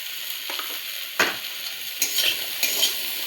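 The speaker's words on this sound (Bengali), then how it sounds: "একটু নাড়াচাড়া দিই।" Food seasoned with turmeric and salt is stirred in a frying pan, a steady hiss of sizzling under a few distinct scraping strokes, close and clear with no speech.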